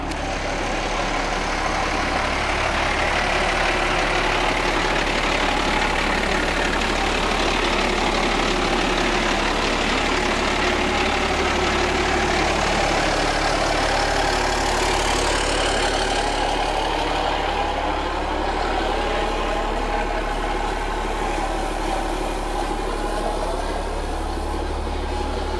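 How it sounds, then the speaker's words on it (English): A truck engine idles for a long, steady stretch while warming up before a camping trip, a constant low rumble with a slowly shifting drone. "So we're gonna let the truck warm up."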